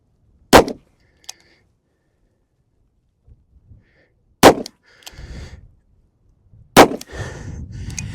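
A Smith & Wesson Model 629 revolver fires .44 Special rounds outdoors: three loud, sharp reports spaced several seconds apart, each with a short ringing decay and some rustling between shots.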